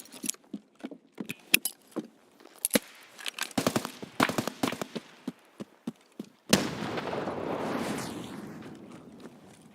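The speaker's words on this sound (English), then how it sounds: "But I'm just gonna throw like a grenade." Combat in the shooter Escape from Tarkov: a scatter of sharp clicks and quick gunshots rattles along, then one sudden loud grenade blast booms and rolls off in a long, noisy decay.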